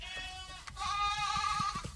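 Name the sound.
goats bleating in a meadow, from a TV show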